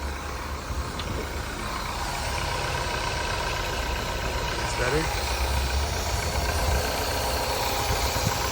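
A teacher's used car sits with its engine idling, a steady low mechanical hum running throughout at moderate level, with people talking over it.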